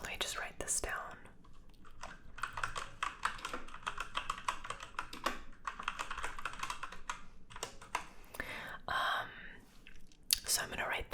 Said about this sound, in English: So let me just write this down.